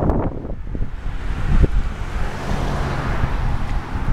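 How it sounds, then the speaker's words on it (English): Strong wind buffeting the microphone during an outdoor bike ride in a neighborhood, a steady loud rumbling roar with gusty swells and no voices. "It's really windy too."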